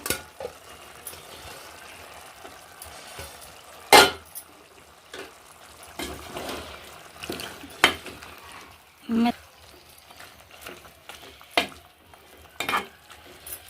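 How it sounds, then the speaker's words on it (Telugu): Freshly cut eggplant pieces dropped into a pot of chicken dal and stirred, giving a handful of sharp knocks and scrapes over a soft simmering sizzle, near and moderately loud, with a voice speaking quietly at times. "ఇప్పుడు నేను వంకాయ ముక్కలు వేసుకుంటున్నాను"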